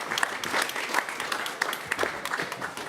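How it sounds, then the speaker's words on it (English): Brief audience applause for panelists at a COP29 session on sustainable cooling, a steady wash of many hands clapping at moderate level. "now a big round of applause to the panelists, please"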